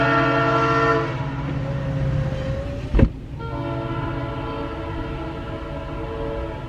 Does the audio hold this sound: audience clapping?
no